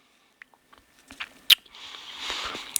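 A few soft crunchy bites and chewing on a KFC chicken burger, with a sharper crunch near the middle followed by a muffled, ongoing chew, close to the microphone.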